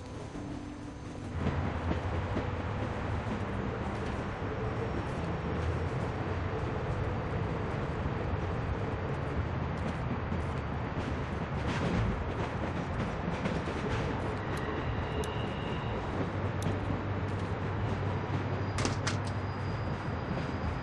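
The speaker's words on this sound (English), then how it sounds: "We need to stop this train." Train running in The Walking Dead video game, a steady loud rumble of rolling rail cars with occasional clanks and metallic rattles, continuous throughout with no speech.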